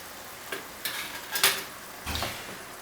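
Mushroom risotto stirred in a pot after two ladles of hot meat stock are added, giving several separate scraping and sloshing strokes of a spoon against the pot, close and moderately quiet with no talking.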